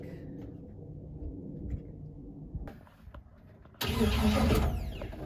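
A Nissan 350Z drift car with a newly swapped LS engine cranks for its first start and catches with a sudden loud roar, settling into a steady idle close by.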